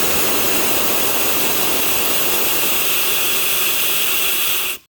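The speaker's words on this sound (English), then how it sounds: "pressure must be bled off" Compressed air bleeds off a compressor system as one loud, continuous hiss that holds steady for nearly five seconds, then cuts off abruptly.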